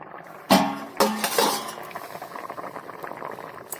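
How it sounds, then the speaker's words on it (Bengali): Vegetable curry of kohlrabi and peas boiling in a covered pot, with two sharp clinks of a lid or utensil near the start, then a steady low bubbling and soft crackle that carries on alone. "তো বন্ধুরা তরকারি ফুটছে"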